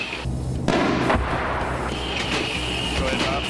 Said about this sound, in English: The 40 millimeter cannon is the weapon of choice, and I get to fire it.